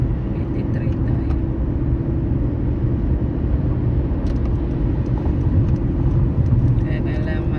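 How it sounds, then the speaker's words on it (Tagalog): Heavy road traffic on Highway 83 near Kansas City on a Saturday, a steady loud rumble of many passing cars heard from inside a moving vehicle, continuous for the whole stretch with no talk. "Kaya kailangan maging alerto ka dito kasi medyo daming sasakyan."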